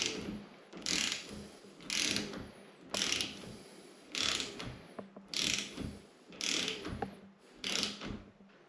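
A torque wrench ratchets on a bolt of a Fox 38 bicycle suspension fork, giving about eight evenly spaced, close clicking bursts with brief quiet gaps between strokes.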